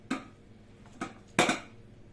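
A small child clatters a kitchen pot and other metal kitchenware, giving three separate clanks, with the last one louder and doubled. No one speaks.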